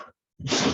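A single sneeze bursts out loudly after a brief silence, a short breathy blast filling the room.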